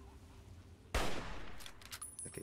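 Gunfire in Fallout 3, a single sharp loud blast followed by a decaying burst of rattling shots and echoes, close and dominant over a quiet background.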